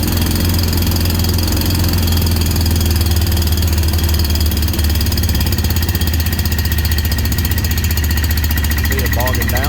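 A Predator 670 engine held at full throttle, running loud and steady with a rough, labouring drone that bogs down throughout, close to the listener.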